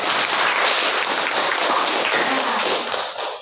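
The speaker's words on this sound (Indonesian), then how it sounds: "Kasih aplaus untuk kita semua." Audience applause from a group gathered in a classroom, a dense burst of close clapping lasting a few seconds before tapering off.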